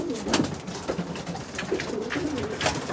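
Opal pigeons coo softly and repeatedly inside a pigeon loft, several birds overlapping in a low, steady murmur close by.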